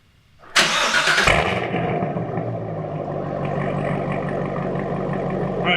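A car engine cranks briefly and catches, flaring up loudly before settling into a steady, rough idle close by.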